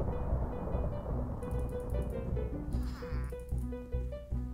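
Cartoonish sheep bleats from the DiscoSheep game ring out in repeated short pitched calls over a steady rhythmic music track, fairly quiet overall.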